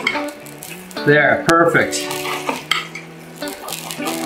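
Beef tenderloins go back into a pan of simmering Espagnole sauce, giving a soft sizzle with a clatter of utensil stirring against the pan, close up under brief speech.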